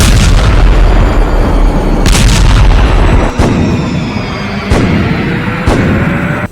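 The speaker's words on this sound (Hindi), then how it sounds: "तोप, लंबी दूरी के रॉकेट और लड़ाकू हेलीकॉप्टर से हमले किए जा रहे हैं।" War footage carries loud, repeated artillery shelling and rocket fire, a dense roaring barrage broken by several sharp booming blasts spaced a second or so apart, close and heavy throughout.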